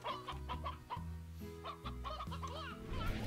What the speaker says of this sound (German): Acht Hühner wieder.